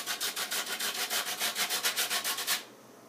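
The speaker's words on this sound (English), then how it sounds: "Now I use a cheese grater." A Heath bar candy is drawn across a cheese grater in quick rhythmic strokes, about fifteen scraping rasps in a steady series, close and fairly loud, stopping abruptly near the end.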